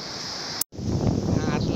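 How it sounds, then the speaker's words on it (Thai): Strong wind buffets the microphone at Surin Beach with rough surf churning underneath, a loud, steady roar broken by one brief dropout. "หาดสุรินทร ์คลื่นลมแรงมาก"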